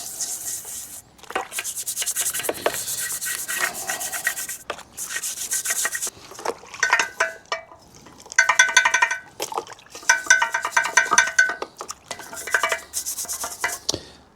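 A curved wire brush taken from a golf ball cleaner scrubs a degreased Honda Hornet motorcycle frame, giving harsh, bristly rasping strokes in bursts with short pauses between, close and fairly loud.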